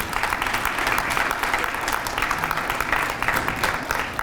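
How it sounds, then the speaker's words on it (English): Applause from the audience at an airline press conference announcing a new crew base at Hopkins airport, a dense continuous clapping that stays steady and fairly loud throughout. "So let's give them a round of applause if we can as well, too."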